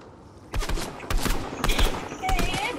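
Gunfire in the Fortnite video game while being sniped, several loud bursts of shots in quick succession over about two seconds, with a player's voice mixed in.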